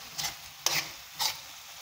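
Pork, carrot and potatoes stir-frying in a pan: a soft continuous sizzle broken by three short scraping stirs spaced about half a second apart, close and fairly quiet.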